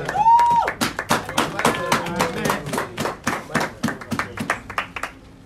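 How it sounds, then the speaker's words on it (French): A church congregation claps in a steady, rhythmic beat, many hands close together and evenly spaced; a brief voice is heard at the start before the clapping takes over. "Acclamons la parole"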